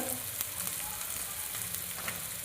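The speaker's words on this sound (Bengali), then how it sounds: "মশলাটা ভেজে নিচ্ছি।" Spices with salt, chili powder and turmeric fry in a pan for vegetable chops, giving a dense, steady sizzle with a few faint stirring scrapes.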